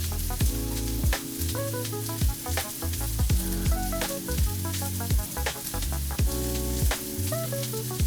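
Bratwursts frying in a pan with a steady, continuous sizzle, heard close and fairly loud beneath rhythmic background music with a pulsing bass line.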